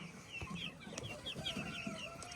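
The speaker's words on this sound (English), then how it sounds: "That's a Shetland hen." Shetland hens, a Scottish breed, cluck in a coop alongside other hens, with several soft, irregular clucks and calls over a steady barnyard background.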